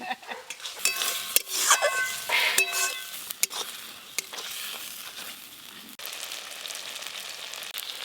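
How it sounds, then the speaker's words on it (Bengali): Spices and chopped onions fry in oil in a pan, a crackling sizzle punctuated by clinks and scrapes of a utensil stirring, with sharper bright clatter early and a steady hiss afterward, no talking. "এইভাবেই মশলা কষে নিতে হবে"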